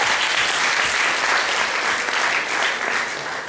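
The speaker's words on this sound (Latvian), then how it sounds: "Aplaus. Kur aplaus?" Audience applause from a live comedy show audience, steady and dense clapping throughout, fairly loud and close, with no talk over it.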